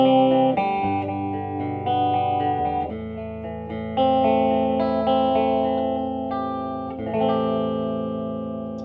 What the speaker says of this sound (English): this guy will light up if you put it on some distortion.